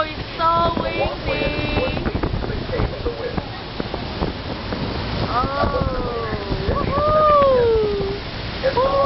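Strong wind buffeting the microphone in a steady roar at the American Falls, with voices and tonal calls rising over it throughout.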